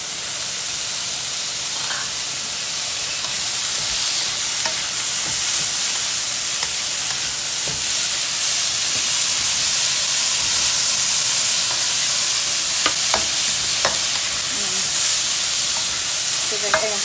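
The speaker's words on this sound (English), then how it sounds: "Giving everything a quick saute." Carrot and corn sautéing in a pan for vegetable fried rice make a loud, steady frying hiss throughout, with occasional faint utensil taps and scrapes.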